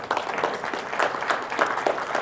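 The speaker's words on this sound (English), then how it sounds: "A round of applause, please." A conference audience claps in a brief, moderately loud burst of scattered hand claps that carries on steadily for a couple of seconds.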